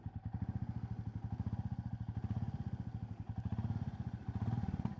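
A modified Royal Enfield Classic 350 single-cylinder engine thumps in a steady, even, close-up rhythm of distinct pulses, rising slightly as the throttle opens near the end, with no talk.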